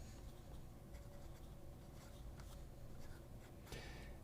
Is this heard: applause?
no